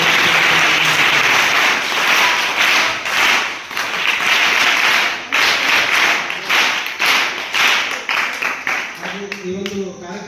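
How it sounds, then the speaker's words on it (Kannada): An audience at a birthday function in Gundlupet breaks into loud, dense applause that goes on for several seconds and then thins out into scattered individual claps. "ಅವರಿಗೆ ತಮ್ಮೆಲ್ಲರ ಪರವಾಗಿ ಒಂದು ಜೋರಾದ ಚಪ್ಪಾಳೆ"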